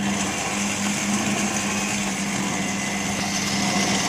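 Electric kitchen mixer blending steadily with a continuous high motor whine and hum, close and fairly loud, with no talking over it.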